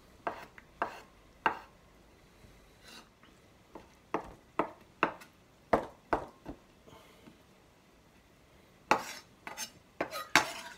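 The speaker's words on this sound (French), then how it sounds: "Je prends de la mozzarella. Que je vais couper en petits morceaux." A knife chops mozzarella into small pieces on a board, with a series of sharp, close, irregular taps, some in quick pairs, and short quiet gaps between them.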